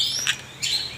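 Magpie robins (kacer) singing, with two bright chirping phrases close by over a faint background of other birds, the second note longer and warbling.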